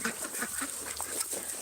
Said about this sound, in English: while I'm waiting for my ducks to have their bath time and before the sun sets.